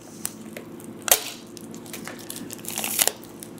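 Crunchy, vacuum-exposed beef is broken apart by hand, giving two sharp, close crunches amid softer crackling and crumbling, with no voices.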